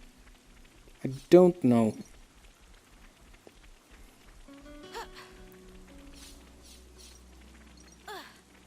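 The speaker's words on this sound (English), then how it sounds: "looking at these rain effects" Soft, steady rain patters in Xenoblade Chronicles 3 as a faint, continuous background wash, with someone speaking briefly over it and scattered game tones.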